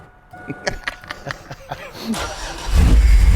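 A car said to have a blown engine cranks over with rhythmic mechanical clatter, then catches and swells into a loud, rough, rumbling run, with a voice briefly heard nearby.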